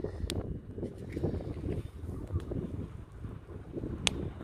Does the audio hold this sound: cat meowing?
no